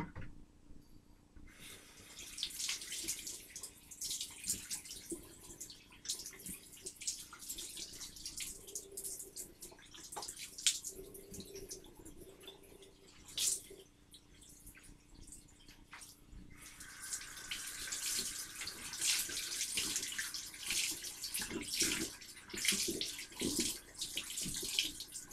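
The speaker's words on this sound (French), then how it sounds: "je vais me rincer, donc je vais passer du lavabo" Tap water runs into a bathroom sink while someone rinses their face, a steady close hiss with splashing and dripping that swells louder toward the end.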